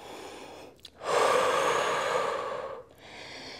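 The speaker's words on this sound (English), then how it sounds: "Inhale, filling the back of the rib cage and slowly exhale through the mouth." A deep, slow breath during a child's pose stretch in a glute workout: a long, breathy exhale carries for about two seconds after a brief intake, close and clear with no talking.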